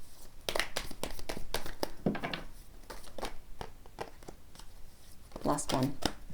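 Tarot cards being shuffled by hand, with repeated papery riffles and slaps in uneven bursts, heard up close throughout.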